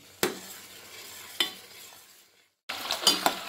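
Butter melting down into ghee is stirred in a pan, giving sharp spoon scrapes against the metal over a steady sizzle, with a brief near-silent gap between strokes and no voices.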